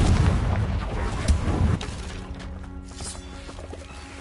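Confringo spell exploding in the Hogwarts Legacy video game: a loud, heavy blast that rumbles for over a second, then fades into a quieter tail with ringing tones.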